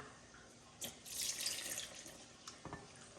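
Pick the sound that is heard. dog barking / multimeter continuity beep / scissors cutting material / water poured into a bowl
water poured into a bowl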